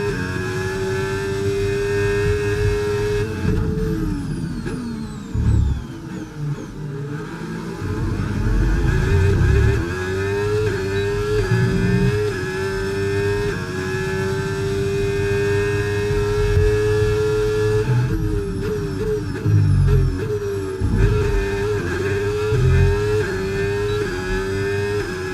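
An F1 race car in the F1 25 video game accelerates with a high, whining engine note that climbs and drops through gear changes, staying loud and continuous, with brief lower-pitched surges and no talk.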